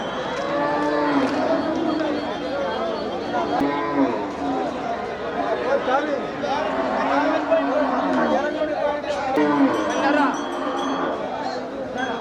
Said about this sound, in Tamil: ஜெர்சி காளை.